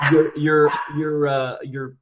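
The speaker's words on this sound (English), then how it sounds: "sorry, I have dogs" Dogs bark and whine in a house, with drawn-out, yelping calls that run almost continuously, close and fairly loud, mixed with someone talking over them.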